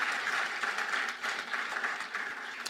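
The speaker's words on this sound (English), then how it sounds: "Shall we do one more big round of applause?" An audience at a distinguished alumni lecture event gives a round of applause, a fairly faint, steady patter of many hands clapping heard from a distance, with no talk over it.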